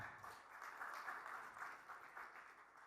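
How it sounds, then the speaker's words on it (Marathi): An audience applauds at a Marathi Bigg Boss press conference. The clapping is faint and distant, a steady wash lasting about three seconds. "रोहन, जोरदार टाळ्या."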